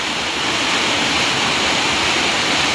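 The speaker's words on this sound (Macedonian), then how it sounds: "дојдовме до Орешки водопад." Oreshki waterfall in Čaška municipality roars as a loud, unbroken rush of falling water, the only sound throughout.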